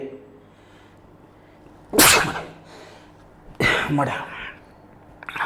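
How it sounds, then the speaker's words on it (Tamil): Two loud sneezes ring out close by, the first near the two-second mark and a second, longer burst about a second and a half later, with quiet room tone in between. "சொன்ன உடனே தும்மல் வந்துடுச்சு"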